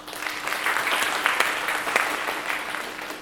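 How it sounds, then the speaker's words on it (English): Audience applause at an Arangetram, an Indian classical dance debut, just before the lamp-lighting ceremony: steady, dense clapping from a full hall, fairly loud and close, with no talk over it. "Let's give you a nice round of applause."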